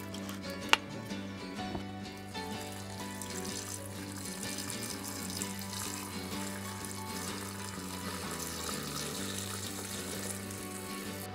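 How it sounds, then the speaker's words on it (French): Water poured into a soup maker inside a converted camper van makes a low, steady splashing trickle, faint and continuous, with a single sharp click near the start. "maintenant, je rajoute l'eau et je lance la cuisson"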